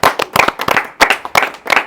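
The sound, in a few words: audience clapping for babai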